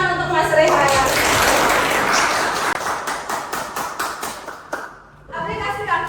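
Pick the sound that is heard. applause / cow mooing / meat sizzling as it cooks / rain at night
applause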